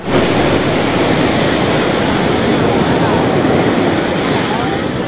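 Sea waves crash continuously onto Puri beach in the morning, a loud, steady roar of surf with breezy wind noise over the microphone and no clear voices.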